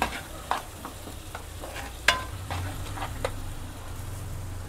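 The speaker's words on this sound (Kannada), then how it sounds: "ಸ್ವಲ್ಪ ಆಯಿಲ್ ಬಿಡೋ ತನಕ ಫ್ರೈ ಮಾಡಬೇಕಿದನ್ನು" Tomato and cashew gravy frying in a pan until the oil separates: a soft continuous sizzle with intermittent sputters and ladle scrapes, close up and with no talking.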